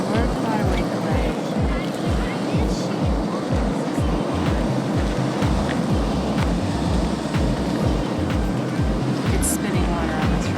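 Powerful water spray at Yellowstone National Park gives a loud, steady roaring rush of falling water and mist, with a rhythmic low buffeting throbbing underneath throughout.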